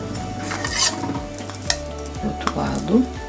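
Unleavened flatbread cooking in a pan as it is flipped to the other side, with a steady sizzle and soft stirring and scraping of a utensil against the pan, plus a few light clinks, close and moderately loud with no talking.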